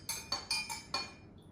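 Spoon or glass clinking against a cup while a caramel apple jello-shot mixture with Ciroc vodka is stirred: five bright, close, sharp clinks in an uneven rhythm, then quiet.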